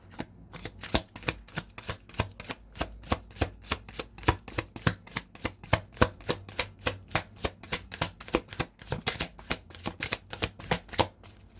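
Tarot cards being shuffled, a quick rhythmic series of soft papery riffles and taps, close and steady throughout with no voices.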